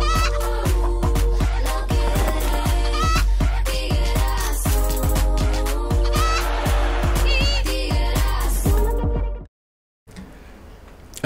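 Chickens cluck and call densely in a McDonald's television advert about French poultry farming, with loud overlapping bird calls and rhythmic sounds throughout before a brief silence near the end.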